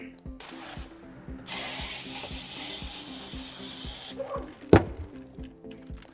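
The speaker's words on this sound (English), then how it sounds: "So we will hose it down real quick." Water hosed onto the liftgate window of a Lincoln MKX during window tinting, a steady hissing spray for a few seconds under a rhythmic background clatter, ending with a sharp knock.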